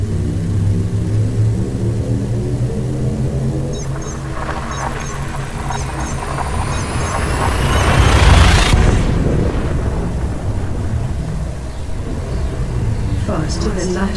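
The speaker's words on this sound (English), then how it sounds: "Make the jump. Preparing for jump. Full speed ahead." Spaceship hyperspace jump in the game Elite Dangerous: a steady engine rumble builds to a rising, roaring surge that peaks and cuts off sharply, then settles into a deep drone, with a synthetic voice speaking over it.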